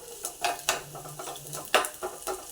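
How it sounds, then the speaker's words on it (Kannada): Onion fries in hot oil with no curry leaves, a soft continuous sizzle up close, punctuated by sharp spatula scrapes and taps against the pan at irregular intervals. "ಕರಿಬೇವಿನ ಸೊಪ್ಪು ಇಲ್ಲ ಹಾಗಾಗಿ ಬರೀ ಈರುಳ್ಳಿನೇ ಹುರ್ಕೊತಾ ಇದ್ದೀನಿ ನಾನು"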